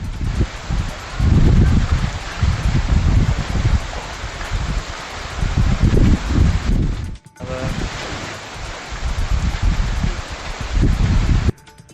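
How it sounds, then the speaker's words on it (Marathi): Strong wind roars and gusts across the microphone with a steady rushing wash like heavy rain, surging and dropping in waves, briefly cutting out midway. "सोसाट्याच्या वाऱ्यासह पाऊस आला"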